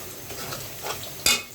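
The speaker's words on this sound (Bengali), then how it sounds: "একটু ভালোভাবে নাড়াচাড়া করে নি" Chili and turmeric stirred into hot oil in a pan while cooking a pabda fish and pointed gourd curry: soft scraping and low sizzling, then one sharp metallic clack of a spoon near the end, close up, with no voices.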